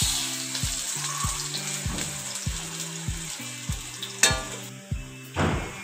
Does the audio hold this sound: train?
no